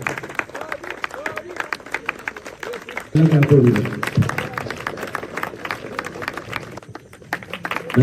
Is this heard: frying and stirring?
no